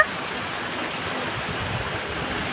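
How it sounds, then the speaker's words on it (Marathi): Heavy monsoon rain pours down with wind, a dense, steady hiss of water that holds unbroken and fairly loud throughout. "जोरात पाऊस आहे"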